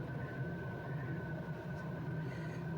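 An HO scale model New York City MTA subway train, a number 3, running on a layout and pulling into a station, giving a steady continuous rumble and hum close by with no talk.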